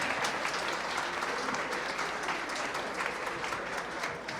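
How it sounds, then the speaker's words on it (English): Wedding guests applaud during a marriage ceremony, a dense, continuous burst of clapping from a crowd that holds steady and loud throughout. "Let's give him a big round of applause."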